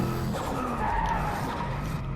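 Koenigsegg Regera tires skidding in a slow slide on a Norwegian circuit in the racing video game Driveclub, a loud continuous squeal running over steady engine and road noise.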